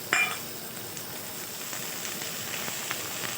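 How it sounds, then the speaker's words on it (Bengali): Chopped vegetables with yardlong beans and capsicum sizzle softly in a pan while being stir-fried for fried rice, a faint steady hiss with no voices. "এই সবজিটা একটু ভালোভাবে সব নেড়ে নেব"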